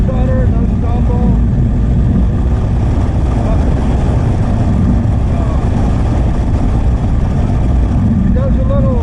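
A Honda thumper single-cylinder motorcycle in fifth gear at wide-open throttle, carbureted, giving a loud, steady, continuous engine roar with wind rush, near and unbroken throughout.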